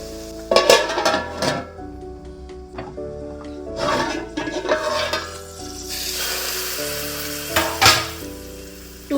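Ginger garlic paste frying in hot oil in a pan for an Andhra-style raw mango fish curry, giving a loud steady sizzle with bursts of stirring and a few utensil scrapes, with no talk.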